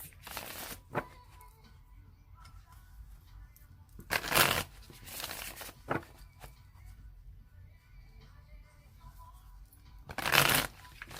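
Tarot cards are riffled and shuffled in several short bursts, separated by quiet pauses, close by and crisp.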